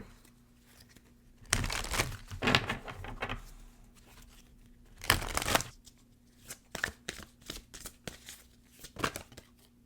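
Enchanted Map Oracle cards are shuffled and drawn in a quiet room, giving bursts of riffling and rustling separated by pauses, then a run of crisp individual card snaps and slides.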